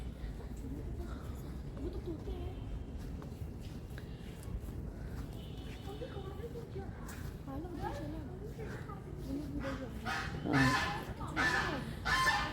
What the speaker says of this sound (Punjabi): ਬੱਤਖਾਂ ਦੀਆਂ ਆਵਾਜ਼ਾਂ ਆਈ ਜਾ ਰਹੀਆਂ ਨੇ ਅੰਦਰੋਂ।